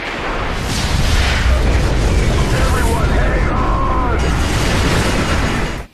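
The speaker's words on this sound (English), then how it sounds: "Not only does a nuclear bomb go off in your face" Nuclear bomb detonation in the video game Call of Duty 4: Modern Warfare, a loud, sustained roaring blast that rumbles and swells for several seconds before cutting off abruptly.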